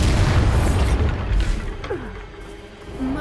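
The Bombarda spell explodes in Hogwarts Legacy, a loud deep boom that rumbles and fades, with faint whooshing magical tones trailing after.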